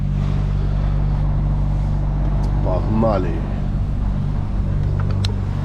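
Truck engine idling steadily while the driver prepares to reverse at a loading area in Spanish strawberry fields, a low continuous rumble throughout with someone speaking briefly over it.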